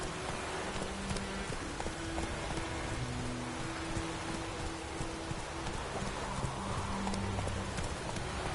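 Geralt's horse Roach moves through rain in The Witcher video game. Close, even hoofbeats clop steadily over a constant wet hiss, with a faint whinny hinted.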